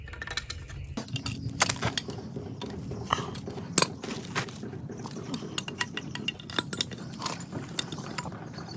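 Channel lock pliers tighten a copper pipe fitting, making close metallic clicks, scrapes and gripping ticks that repeat irregularly over a low steady hum.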